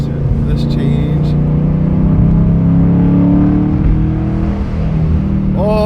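A Ford GT500 with a Flowmaster Outlaw exhaust pulls hard in second gear, its loud droning engine note climbing steadily in pitch up to 4,000 RPM, recorded from inside the car with talk over it.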